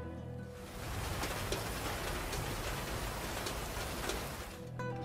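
Steady, even rain hiss with scattered droplet ticks in the video game The Last of Us Part II, constant and enveloping, fading in at the start and easing off at the very end.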